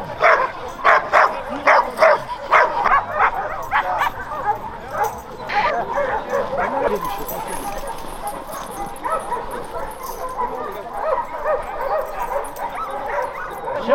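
A leashed dog barks in a quick run of sharp yips for the first few seconds, then lets out scattered whimpers and whines, with a person talking throughout.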